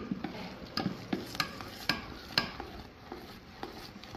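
Rice flour dough for ariselu is mixed by hand in a kitchen, producing irregular soft slaps and squelchy stirring knocks, a few sharper taps against the vessel, close and fairly quiet with no talk.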